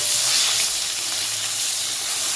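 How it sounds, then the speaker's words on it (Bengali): Large pieces of bhola fish fry in a pan with a loud, steady, close sizzling hiss that fills the whole short stretch. "তাই ভোলা মাছটাকে ভাজছি"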